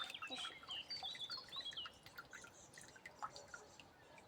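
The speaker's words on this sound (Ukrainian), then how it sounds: "Водичка в тебе з тапків витікає." Water drips and trickles out of wet slippers outdoors near a catamaran, a faint irregular patter of small drops and splashes under soft background noise, with light chirpy high sounds over the first half.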